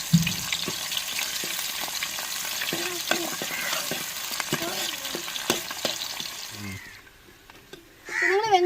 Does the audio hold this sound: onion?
yes